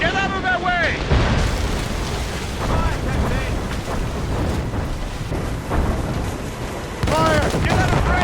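Heavy rumbling explosions and booming from mortar fire during a naval battle in Assassin's Creed Rogue, loud and continuous, with whistling incoming shells near the start and end and faint voices mixed in.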